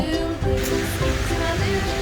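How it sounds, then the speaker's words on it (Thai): A waterfall roars as a steady, dense wash of rushing water, close and continuous throughout, with faint voices mixed in, heard on a farm outing in Ratchaburi, Thailand. "ตอนนี้เราได้ยินเสียงน้ำตกนะครับ"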